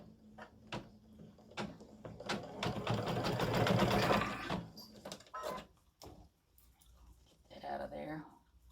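An embroidery machine stitches an in-the-hoop Thanksgiving mug rug in short, rapid mechanical bursts, with someone talking between and over the stitching.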